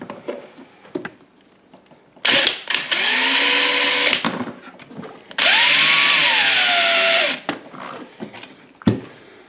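A power tool with a number 8 socket tightens a nut on a Greenworks electric lawn dethatcher during tine replacement. It gives two loud, close whirring bursts, each lasting about two seconds, separated by quieter handling clicks.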